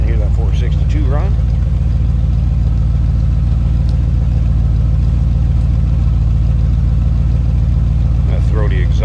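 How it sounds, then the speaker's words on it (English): A 1966 Lincoln Continental's 462 V8 idles with a deep, throaty, loping exhaust rumble, loud and steady throughout, with brief bits of talking at the start and end. "Slip around the back so you hear that 462 run."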